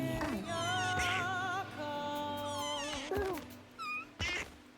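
Cats in the video game Mewgenics meow over one another, several high, wavering calls rising and falling, then a few short separate meows near the end, close and clear.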